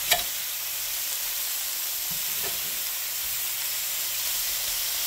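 Breakfast food sizzling steadily in a hot frying pan, a continuous bright hiss with a soft clack near the start and a faint knock partway through as it is flipped; no talking.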